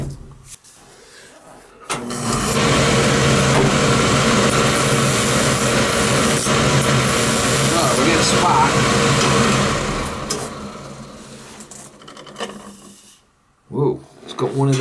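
A Beckett oil burner that will not stay running, fitted with a clutch coupling, runs steadily with a broadband roar and mechanical whir for about eight seconds before shutting down, leaving brief knocks and faint voices afterward.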